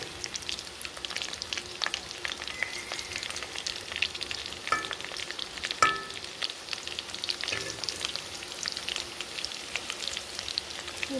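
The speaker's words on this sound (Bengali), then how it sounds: "আর একটু ফ্রাই করবো, করে এটা উঠিয়ে নেব।" Chicken pakora pieces fry in hot oil on a raised gas flame, a steady crackling sizzle close by with scattered spatters and a few light utensil clicks, no talk.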